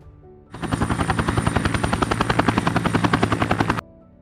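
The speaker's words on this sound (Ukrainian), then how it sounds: "гелікоптер" A helicopter flies close and loud, its rotor blades chopping in a fast, even rhythm for about three seconds before stopping suddenly.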